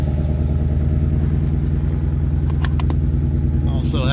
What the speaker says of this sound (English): This vehicle also does have an exhaust on it. As you can tell, a little bit louder than stock,